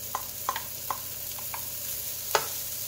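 Peas and carrots tipped into a hot pan with browning onions for fried rice give a soft continuous sizzle, broken by a few sharp clicks and taps of a utensil stirring against the pan.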